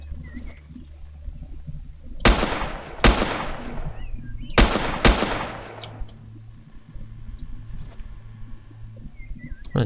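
Four loud gunshots crack in the Next Day Survival video game, arriving in two close pairs, each with a ringing tail over a low ambient hum.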